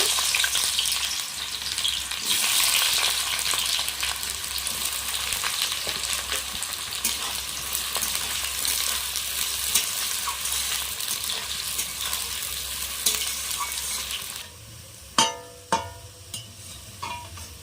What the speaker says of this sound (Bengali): এবার আমি এখানে পেঁয়াজ বেরেস্তা ভেজে নেব।